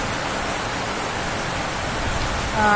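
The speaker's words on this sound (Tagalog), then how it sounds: "Lakas ng ulan sa labas." Heavy rain pouring outside a house, a dense, steady hiss of falling water that stays constant and loud throughout.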